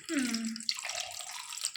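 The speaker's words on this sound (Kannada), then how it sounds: "ಇದಕ್ಕೆ ಒಂದು ಲೋಟ ನೀರು ಹಾಕ್ತೀನಿ" A glass of water is poured over jaggery to make syrup for Shivaratri tambittu. It makes a short, close splashing pour lasting under two seconds.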